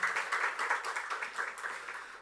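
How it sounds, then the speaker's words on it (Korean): A church congregation applauds its teachers, a brief burst of many hands clapping in a quick, even rhythm that gradually fades. "선생님들 박수 한번 하겠습니다"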